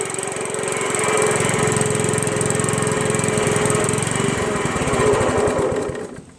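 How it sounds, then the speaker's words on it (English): A Honda Harmony commercial-grade walk-behind mower engine runs at a loud, steady chugging idle close by, holding even for several seconds before cutting off and winding down at the end. "this is the same exact engine, and we know this one works"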